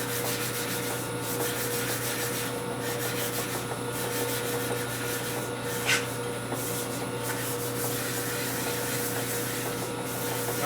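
Steady rough rubbing of sandpaper worked back and forth by hand on a Harley-Davidson Panhead rocker arm, a continuous gritty scratch with soft rhythmic swells, close up with no talking.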